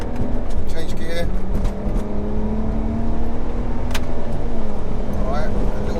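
A 370 bhp BMW 335d diesel pulls hard, its engine drone rising toward the rev limiter. The sound is loud and close from inside the car, with brief talk over the engine.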